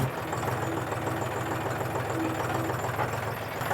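A 2025 John Deere 5045 D tractor runs in B range first gear, its diesel engine giving a steady, close, low chugging rumble throughout with no voices.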